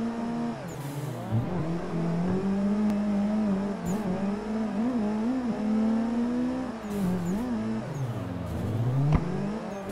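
Cars drifting in the Assetto Corsa racing game, with a continuous droning engine note that rises and falls as the throttle is worked, steady and fairly loud with no talking.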